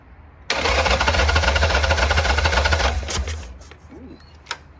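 A 1990 Harley-Davidson Sportster 883 under restoration, running without a breather, cranks and fires into a loud, rough, chugging idle for a few seconds, then cuts out and falls silent apart from a couple of clicks.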